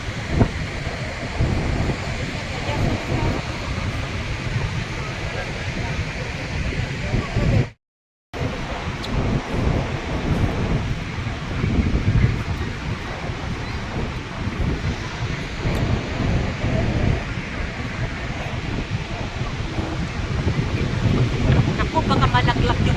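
Niagara Falls roars as a constant broadband rush of water, heavily buffeted by wind on the microphone, with a brief dropout midway and people talking over it.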